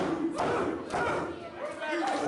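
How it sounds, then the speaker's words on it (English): A wrestling crowd yells and cheers in short swelling bursts behind a wrestler firing up in the ring, loud and close, with shouts rising and falling. "Jude Dawkins firing up here, getting this crowd behind him."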